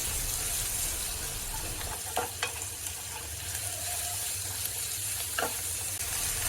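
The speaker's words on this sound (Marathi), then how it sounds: "एक छोटासा कांदा घेतला आहे तो सुद्धा आपण ह्या मसाल्यासोबत भाजून घ्यायचं आहे" Chopped onion frying in a pan with roasted spices for horse gram flour pithla, a steady close sizzle with a few faint stirring clicks and no talking.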